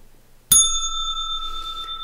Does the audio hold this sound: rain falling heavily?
no